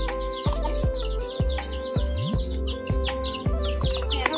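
Village chickens in a Darjeeling tea garden peck at onion peels, clucking softly and irregularly nearby, with thin chirps and short calls scattered over a quiet background.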